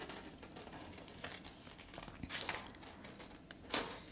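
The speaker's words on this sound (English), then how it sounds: "Cutting out nice and smooth right there." Quiet crinkling and snipping of scissors cutting paper, with a few sharper cuts and rustles scattered throughout, close by.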